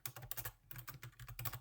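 Quick, close clattering of keys on a computer keyboard, typed in uneven bursts with a brief pause midway.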